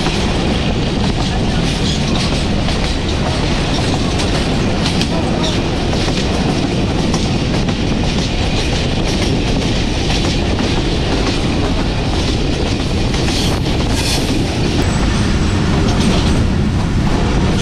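Steady loud rumble and clatter of the Jand passenger train in Pakistan heard from inside the guard van at the rear, wheels rolling continuously with rhythmic clicks and no break throughout.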